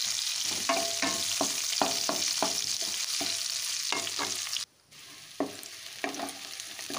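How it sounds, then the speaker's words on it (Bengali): Onions fry in a kadai for a whole-garlic chicken recipe, with a steady hiss of sizzling oil cut by a regular run of spatula scrapes, close and fairly loud, and no talk. "এই উপকরণগুলো একটু ভেজে নিচ্ছি, বেশি ভাজবো না"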